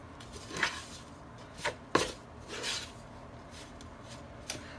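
Dough for apple strudel mixed with a plastic spoon in a bowl, a handful of soft, separate scraping and thudding strokes with quiet gaps between them, close and faint.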